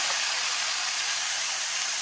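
Chopped tomatoes hitting a hot pan of spiced potatoes, a loud, even, continuous sizzle and hiss that stays steady the whole time.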